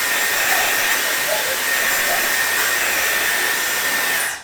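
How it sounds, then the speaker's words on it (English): A hairdryer blows steadily at close range onto a wet arm bandage, a loud, even whooshing roar that holds without a break before cutting off at the end. "it's quite good just to dry it off quickly with a hairdryer"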